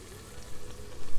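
Onion frying in oil and butter in a pan for a homemade chicken curry, a soft, steady sizzle and crackle throughout, growing a little louder toward the end, with no talking.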